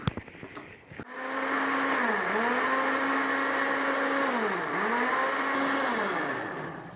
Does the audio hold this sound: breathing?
no